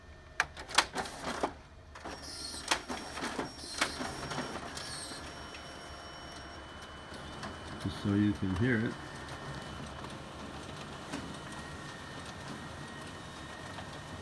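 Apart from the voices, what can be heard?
Ricoh MPC 4000 copier making copies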